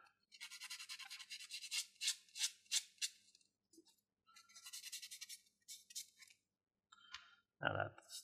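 Sandpaper rubs over the seam of a plastic Gunpla model kit part in short, close scratchy strokes, several quick passes in bursts with brief pauses, quiet and alone, ending with a small tap.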